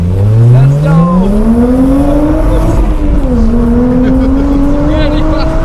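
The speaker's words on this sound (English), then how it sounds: "Really fast for a drift car." A drift car's engine revs up loudly and climbs in pitch, holding a high strained whine as it accelerates hard, close and dominant.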